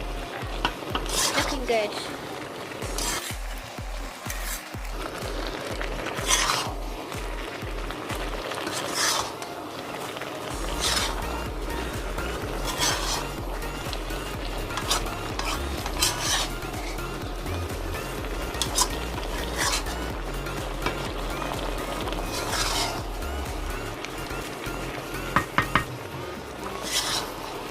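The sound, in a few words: stirring and frying ginger chicken karahi with spices in a pan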